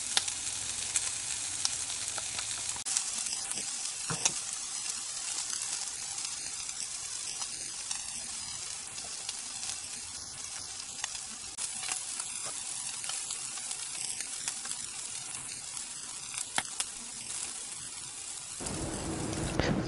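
Hormel canned corned beef formed into a patty fries in a pan, a steady broad hissing sizzle with scattered pops and crackles throughout, close and even, dropping off near the end, without speech.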